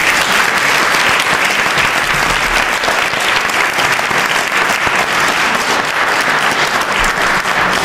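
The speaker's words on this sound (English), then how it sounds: "if you just give a special round of applause to those artists" Steady, dense applause from a large audience, loud and continuous throughout with no pauses.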